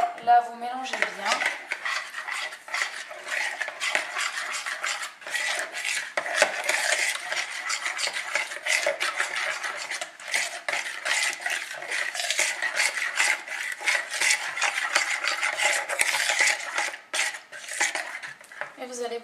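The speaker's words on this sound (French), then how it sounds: "Là, vous mélangez bien." Raw vegan gazpacho being mixed in a bowl with seasoning of salt and pepper, giving a steady, continuous scraping and clinking of a utensil against the bowl, fairly loud and close, with no talking.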